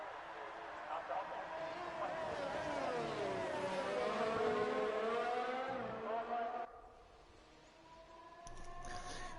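An F1 race car accelerates out of the pits in an IRL F1 Australian Grand Prix sim race, a sustained rising engine whine that climbs through gears, then drops off and fades near the end, with commentary talking over it.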